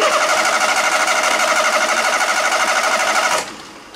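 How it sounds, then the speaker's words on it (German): A car engine cranked by its starter motor during a starter test, a loud, rapid rhythmic churning that runs steadily for over three seconds before cutting off abruptly into a quieter idle-like hum. "Dazu starten wir den Motor wieder."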